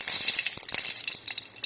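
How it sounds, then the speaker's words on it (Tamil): Dried red chillies drop into hot oil for a mosakkeeeai rasam: a close, dense crackling sizzle with small clinks and stirring taps, quick and busy throughout, with no voices. "எண்ணெய் சூடேறிடுச்சு. சிவப்பு மிளகாய் சேர்த்துக்கலாம்"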